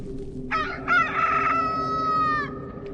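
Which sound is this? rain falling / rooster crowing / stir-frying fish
rooster crowing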